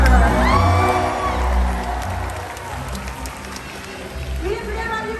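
An audience at a SeaWorld Orlando killer whale show cheers and whoops loudly for the orca, with a crowd roar that swells and holds. An announcer's voice carries over a sound system.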